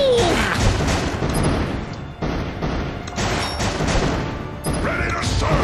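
Repeated bomb explosions from the tower-defense game Kingdom Rush Vengeance, loud crashing booms with debris bursts at about two-second intervals over a dense, continuous battle din.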